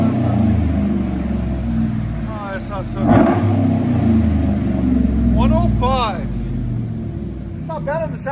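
Chevy Silverado 5.3L V8 with aftermarket exhaust revving: a deep, steady rumbling idle with blips, loud and close, while people talk over it.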